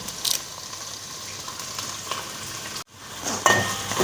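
Curry leaves hit hot oil in a steel pan for vegetable pickle, giving a bright, steady sizzle and spatter with a brief cut near the middle, then renewed crackling.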